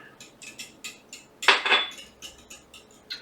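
Eggs whisked in a bowl for matzo brei, a quick run of light rhythmic clinks and taps from utensil against dish, with one louder scraping burst midway, close and clear with no talking.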